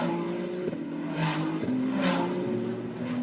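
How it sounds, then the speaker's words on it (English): 2024 Ferrari Challenge 296 race cars scream past on the Montréal circuit during qualifying, engines rising and dropping in pitch through quick gear shifts, loud and close as each car sweeps by. "we can hear the extraordinary sound of these new for 2024 Ferrari Challenge 296 cars"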